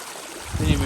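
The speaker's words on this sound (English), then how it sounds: "the rain has obviously dug itself its own little river system" Rainwater running as a small stream across a hiking trail in Ellis Brook Valley, a soft trickle at first that swells into a louder, close rushing flow about halfway through.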